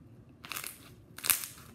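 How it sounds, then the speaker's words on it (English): Homemade slime is squeezed for a crunch test, giving two short crackling, popping bursts close to the mic with a pause between them, no talking. "Now for the crunch test."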